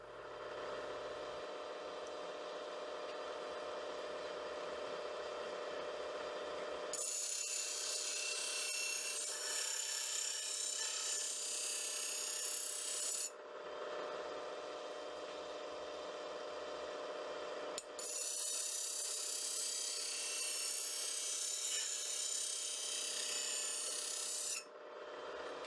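A scrub plane blade is ground across its bevel to raise a burr, giving a steady rasping whir in two long bursts against a constant motor hum, with no talking.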